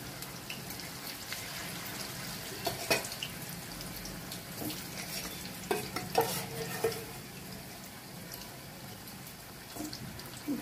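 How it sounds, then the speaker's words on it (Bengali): Soybean chunks sizzle steadily in hot oil in a pan, a continuous frying crackle with occasional louder pops and stirring scrapes, fairly close and alone. "দিয়ে দিলাম, ভাজাটা হতে থাকে।"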